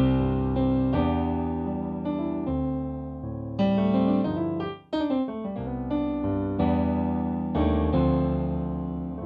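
A Kawai CN201 digital piano on its EX concert grand voice plays a short expressive passage of chords and melody, full and resonant, with a brief pause midway and no talking.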